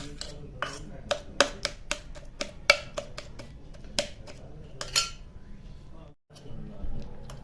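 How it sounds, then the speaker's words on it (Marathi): Roasted eggplant being mashed in a pot, a run of sharp irregular metal-on-metal clinks and taps from the utensil against the pot, fairly close, with a brief pause near the end before the scraping resumes. "असे वांगे मॅश केले की आता यात कोरडे मसाले टाकायचे"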